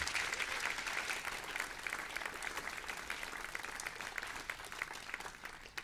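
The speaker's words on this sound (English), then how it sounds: "Give Adrian Green another round of applause" Applause for a soloist at a brass band festival's championship section, a steady crowd of many hands clapping at a distance, fairly soft and continuous without talk.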